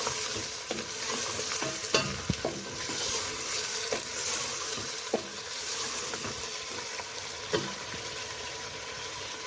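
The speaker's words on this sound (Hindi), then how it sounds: "प्याज और लहसुन के साथ गोश्त को भून लेते हैं।" Mutton sizzles in a pan with onion and garlic, a continuous hiss of frying broken by repeated clinks and scrapes as a spoon stirs the meat, fairly quiet and with no talking.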